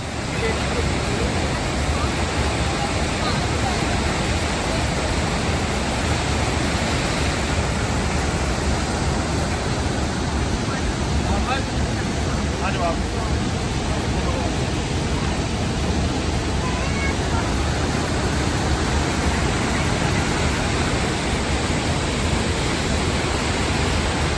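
Athabasca Falls sends up a loud, steady broadband roar of plunging water that stays constant and close throughout.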